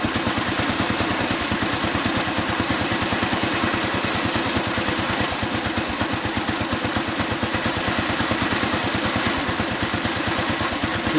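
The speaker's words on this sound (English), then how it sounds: "So you can hear this is about idling now." A Bolens Husky 1050 garden tractor's small engine idles steadily and loudly up close, with an even low rumbling pulse and no voices throughout.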